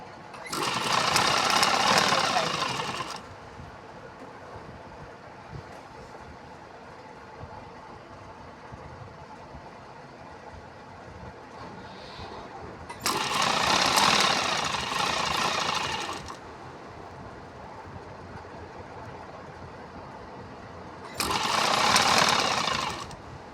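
Domestic sewing machine stitching a sleeve onto a T-shirt at a boutique, three loud bursts of rapid mechanical stitching separated by quieter stretches of low handling noise.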